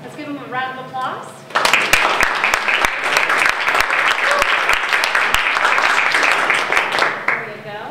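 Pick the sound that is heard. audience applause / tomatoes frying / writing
audience applause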